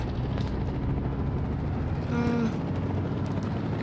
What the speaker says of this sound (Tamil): ஹெலிகாப்டர் வெளியே போக முடியல. ஹெலிகாப்டர் வெளிப்போ.